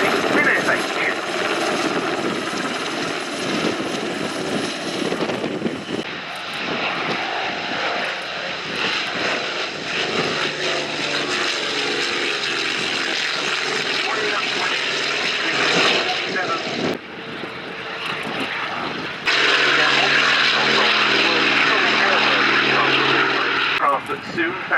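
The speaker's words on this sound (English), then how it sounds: "vin Beckers and Captain Philip Caramans with the Belgian Air Force NH Industries NH-90 NSH." Belgian Air Force NH Industries NH-90 NSH helicopter flying a display at a Duxford airshow, its engine and rotor sound loud and continuous, shifting in tone as it manoeuvres.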